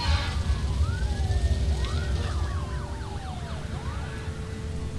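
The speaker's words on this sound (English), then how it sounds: "Constant sound of sirens." Wailing emergency sirens in the video game SimCity rise and fall over a dull rumbling background amid burning buildings, several overlapping sweeps sounding fairly close and loud.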